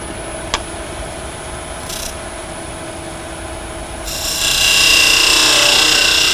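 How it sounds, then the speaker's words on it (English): On a wood lathe, a cutting tool trues up the bottom face of a small turned wooden bird house, a steady rubbing hum that turns into a louder, brighter scraping cut partway through, close and without talk. "next thing I'm going to do is true up the bottom"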